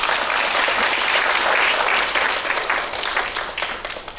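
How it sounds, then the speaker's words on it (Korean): Audience applause after a presentation at an academic conference on Buddhist ritual culture, a dense, loud burst of clapping from a hall that fades gradually toward the end. "다시 한번 발표에 힘써주신 정수석 교수님께 큰 박수 부탁드립니다"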